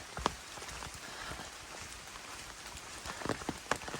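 Rain patters steadily on a surface, with a few louder, sharper drops standing out near the start and end.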